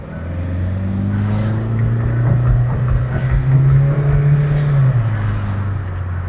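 A lorry, freshly given an engine decarbonization, pulls away in second gear, its diesel engine droning loud and close with a steady low note that swells as it accelerates.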